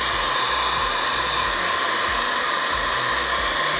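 Hair dryer blowing steadily while hair is styled with a brush, a loud continuous close-up whoosh with a low motor hum, no talk.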